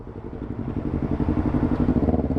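A Yamaha R25 motorcycle engine runs close by, with a steady, pulsing exhaust note and a faint mechanical clatter.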